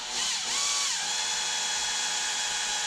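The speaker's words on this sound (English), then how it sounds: "I'm going to keep my drill as square to the boss as possible" A power drill bores a slow pilot hole into the case of a Muncie 4-speed gearbox, a loud continuous whine up close that briefly dips and rises in pitch near the start before holding steady.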